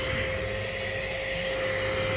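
A small handheld HŌM mini vacuum cleaner runs steadily throughout, a loud, even motor whine with a sharp high tone and constant airflow hiss, close and alone.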